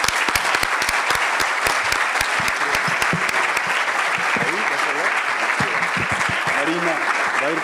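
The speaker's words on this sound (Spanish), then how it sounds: "no sé si corresponda a mí pedir un gran aplauso para él, Marina, o lo pides tú." Dense, sustained applause from a lecture audience fills the whole stretch, steady and loud, with faint voices mixed in beneath the clapping.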